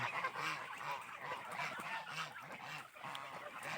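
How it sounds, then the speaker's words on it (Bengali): Raja hans ducks on a farm honk and call repeatedly in a steady, overlapping chorus, with several birds close by and more in the background. "এই হলো রাজা হাঁসগুলা সবগুলো আপনারা দেখাই"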